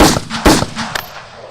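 Gunshots from a Resident Evil video game trailer: several sharp, loud bursts in quick irregular succession, each a hard broadband crack with a short tail, heard up close with no talk over them.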